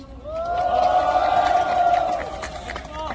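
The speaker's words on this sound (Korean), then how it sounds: "힘찬 박수 한번 부탁드립니다" A crowd at a political protest rally cheers in one loud, sustained collective shout lasting about three seconds. It is close and full, then fades slightly toward the end.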